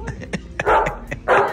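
A person imitates a dog barking up close: a quick run of short yipping barks leads into two longer, louder, rougher barks, with nothing else audible.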